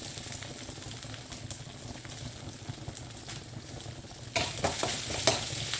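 Chopped onions frying and sizzling in oil in a pan, with steady stirring scrapes throughout and a louder burst of sizzle near the end, close and continuous.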